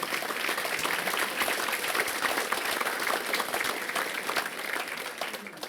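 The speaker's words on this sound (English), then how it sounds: "Can we please give all of our sponsors a huge round of applause for their generosity?" An audience at a regional chamber business recognition event applauds sponsors, a dense sustained round of clapping that continues steadily throughout.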